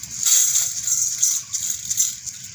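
Dry, crispy pieces clatter and rattle continuously as potato chips are poured onto a plate, a bright crunchy rustle with no talking.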